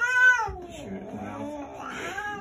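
A scared cat yowls loudly at the vet, a long drawn-out caterwaul followed by lower growling moans, with a person speaking faintly underneath.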